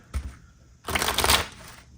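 A deck of cards being shuffled up close, first a quick riffle snap, then a longer, fluttering burst of cards riffling together, with no talking.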